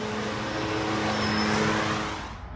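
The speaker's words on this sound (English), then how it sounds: "Let's take the car for a drive." A 750 hp Toyota Aristo V160 with a big-turbo 2JZ engine drives on streets, its engine a loud, close, steady drone with a faint turbo whine, easing off near the end.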